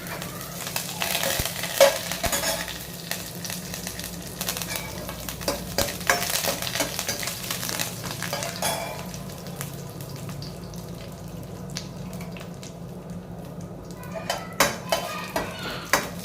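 Curry leaves sizzle and spatter in hot oil close by, with clinks of a spoon against the pan and scattered pops throughout, fading toward the end.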